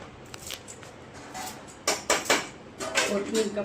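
Fresh coriander chopped by hand in a home kitchen, knife strikes on a board coming in quick bursts of several close, sharp taps after a quiet start.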